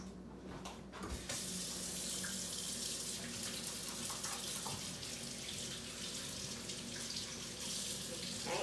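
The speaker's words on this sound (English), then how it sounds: "let me just wash my hands." A kitchen tap runs steadily while hands are washed under it, a close, continuous hiss of flowing water that starts after a brief pause and carries on alone.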